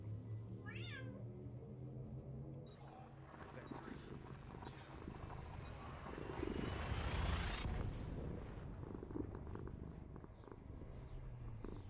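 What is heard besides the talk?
cat meowing and purring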